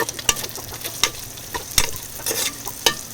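Fish fried in hot oil with garlic and onion crackles and sizzles in a pan, with sharp intermittent pops and scraping stirs recurring every half second or so, close and fairly loud.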